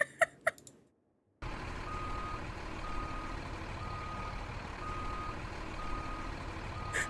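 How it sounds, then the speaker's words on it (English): After a few short clicks and a brief silence, a recording of a backing truck plays: steady engine rumble with faint, evenly spaced reversing beeps, fairly quiet and continuous. "1 hour of truck backing up beep sound."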